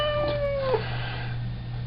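A discontented cat lets out a single drawn-out meow with a falling pitch, close and clear over a steady low indoor hum, followed by quiet.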